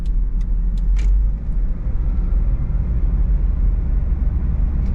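A 1990s Toyota Estima (Previa) minivan cruising on the road, its steady low engine and road rumble filling the cabin throughout, with a few faint high clicks near the start.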